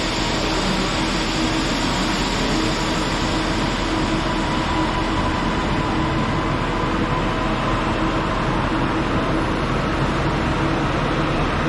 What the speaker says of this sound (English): And I think the Ormskirk train speaks for itself.